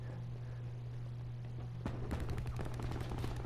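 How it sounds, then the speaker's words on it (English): Rapid automatic fire from the KAP 45 in Call of Duty Black Ops 4 breaks out about two seconds in, after a quiet stretch, and continues as a dense, loud string of shots to the end. "Yeah, man, this gun is insane. It's honestly like a mini micro MG."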